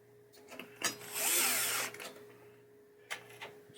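A power drill whirs in a short, close burst while backing a screw out of a 1976 Bally Old Chicago pinball playfield, with a few clicks and taps before and after.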